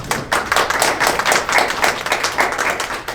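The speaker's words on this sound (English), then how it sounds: "you can clap for these people" An audience at a League of Women Voters area board forum claps for the question screeners, a steady burst of many hands applauding together for about three seconds with no talk.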